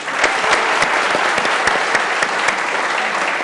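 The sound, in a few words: studio audience applause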